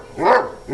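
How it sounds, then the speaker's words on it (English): A big dog barks once, loud and close, a single full bark filling the short moment on its own. "Are you barking?"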